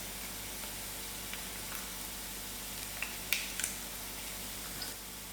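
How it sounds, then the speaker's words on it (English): Broken dry chilies hit a pan of browned onions and fry with a steady, soft sizzle, dotted with a few sharper crackles and pops near the end. "We break in our dry chilies."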